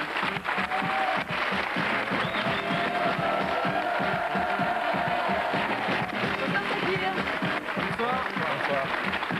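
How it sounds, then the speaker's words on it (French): Studio audience clapping and cheering on a French TV show as a record-attempt guest is welcomed, steady and moderately loud, with a voice speaking over the crowd. "Je vous demande d'applaudir Sakir Ouillard"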